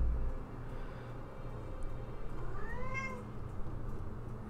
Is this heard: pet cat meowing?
yes